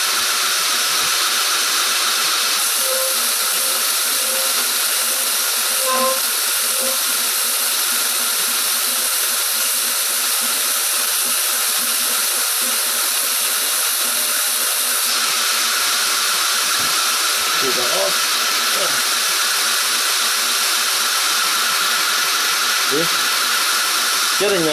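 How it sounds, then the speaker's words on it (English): A belt grinder fitted with a 120 grit belt surfaces knife steel in a steady, high-pitched grinding whine that runs unbroken for the whole stretch, with someone speaking now and then under it. "this is a 120 grit belt"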